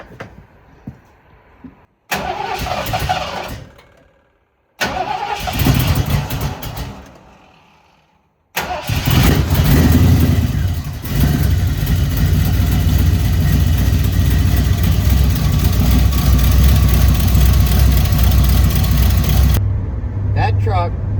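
A 429 engine in a used pickup truck cranks in short bursts and then catches and settles into a loud, steady, low rumbling idle that runs close by for about ten seconds before cutting off.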